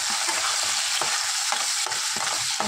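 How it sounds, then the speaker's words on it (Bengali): Potatoes and peas sizzle steadily in a pan, a close, continuous hiss of frying broken by regular soft scrapes and stirs every half second or so. "মানে আলু আর মটরশুঁটি ভাজছি"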